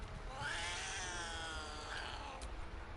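A cat in the game Baldur's Gate 3 lets out a drawn-out, wavering meow close by, followed by a shorter second call, over a low background hum.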